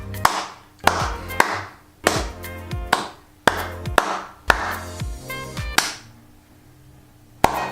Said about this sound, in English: Just a single person applause for you